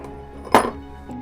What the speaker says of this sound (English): I'm gonna plop 1 big cube in there